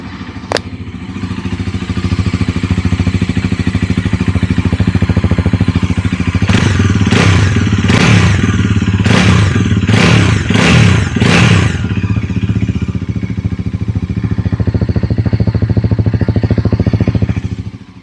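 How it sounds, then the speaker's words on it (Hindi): A Bajaj Pulsar NS400Z motorcycle idling with a loud, deep, bassy thumping exhaust, broken midway by a cluster of sharp revs and blips before settling back to a steady idle, heard close with no speech. "NS400Z का एग्जॉस्ट मुझे पर्सनली ज़्यादा बेसी लगा, ज़्यादा थम्पी लगा।"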